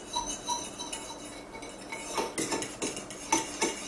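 A seasoning mix with garlic powder being stirred, a quiet run of light clinks and scrapes of a utensil against a dish, in irregular taps that grow a little busier toward the end, with no talking.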